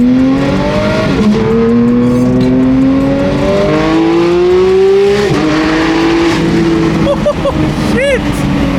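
Sports car engine revving loudly while driving, pitch climbing steadily through several gears with brief drops at each shift, close and continuous, with faint tire noise toward the end.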